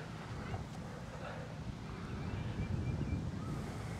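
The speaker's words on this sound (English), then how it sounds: "And the wind just keeps picking up." Strong wind roars steadily across an outdoor disc golf course, a broad low rumble that builds louder toward the end, with brief bits of talk underneath.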